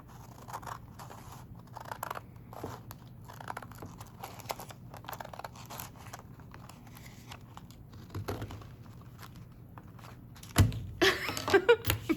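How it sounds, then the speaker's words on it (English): Scissors cut a paper foldable in half with steady, close snipping strokes, and a louder burst of paper rustling and crinkling follows near the end. "next I'm going to take my scissors and I'm going to cut in half."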